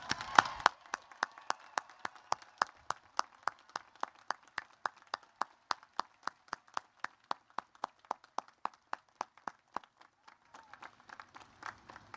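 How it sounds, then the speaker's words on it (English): Applause at a Coast Guard Academy ceremony, heard as faint, sharp claps at an even, steady pace, one after another for several seconds, with little else around them. "Please join me in a heartfelt round of applause."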